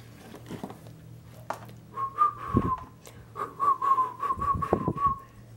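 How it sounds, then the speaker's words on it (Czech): Someone whistles a few short, clear notes, pausing between phrases, fairly close with light background noise. "Pískání."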